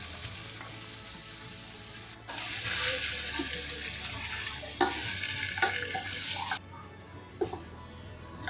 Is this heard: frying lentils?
yes